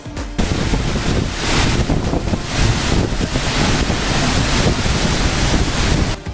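An Icelandic waterfall roars in a broad, continuous rush of falling water, loud and close, with wind buffeting the microphone and no voices.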